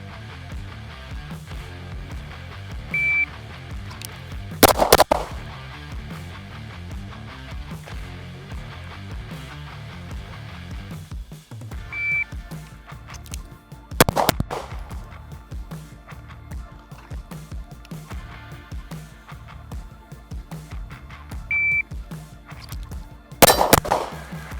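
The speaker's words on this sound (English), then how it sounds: "now that we got a bunch of shooting out of the way" A TWC9 pistol fires three loud, sharp single shots spaced several seconds apart outdoors, each a crisp crack with a short ringing tail over steady low background noise.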